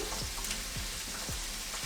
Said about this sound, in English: So when we're frying, because it's at quite a high heat, you're gonna wanna stay pretty close to this and just keep it moving.